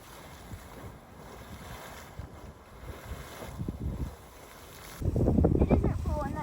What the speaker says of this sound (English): We happened upon an eruption of the Sawmill Geyser.